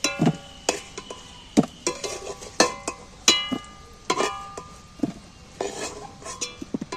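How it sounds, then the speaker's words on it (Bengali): A metal spatula clinks and scrapes in a pan as fried potatoes are stirred and lifted from hot oil, with irregular sharp knocks over a faint sizzle, close and clear without talk. "আলুগুলো আমি নামিয়ে নিচ্ছি, একটু তেল থেকে তুলে নিচ্ছি।"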